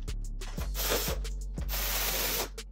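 A hand ratchet clicks in quick repeated strokes while tightening valve cover bolts on a BMW N55 engine, close and loud with a steady mechanical rasp.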